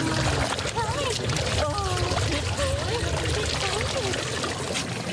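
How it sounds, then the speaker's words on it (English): Dogs diving and splashing into the water at Mayfair Pool in Saskatoon during a city dog swim day, with continuous splashing and sloshing running under a narrator's voice-over. "Pups of all sorts dove into the water at Mayfair Pool today"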